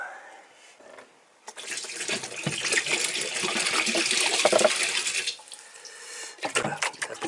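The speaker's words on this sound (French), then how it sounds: "il s'agit d'arriver à transférer l'eau dans le réservoir" Water is poured from a bottle into a tank, a steady rushing splash that starts after a short pause, runs for a few seconds and then tapers off into quieter trickling.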